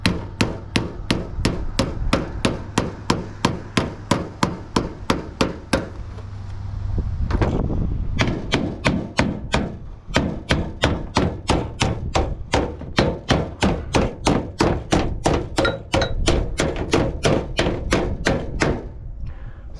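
Hand hammering on standing seam metal roofing: a steady run of sharp, evenly spaced blows, about two per second, with a brief pause and a duller scrape partway through, close and loud.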